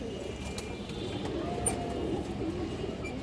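Pigeons coo softly and steadily over a low, continuous rumble of background noise, with no clear speech, from a lively pair among fancy breeds such as silver, muslodom, kaldom and lal khaki pigeons kept for sale.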